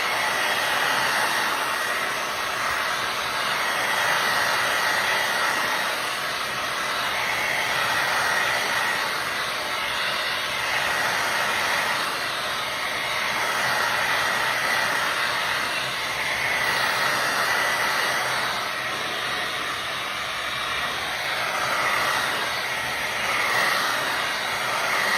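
A heat gun blows continuously to dry a craft project, a steady loud rushing hiss that holds without a break throughout.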